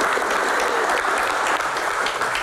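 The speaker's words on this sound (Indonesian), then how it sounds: "Wow, tepuk tangan" Audience applause on a televised Q&A panel, a loud, continuous stretch of clapping from a crowd, steady and uninterrupted for its whole short length.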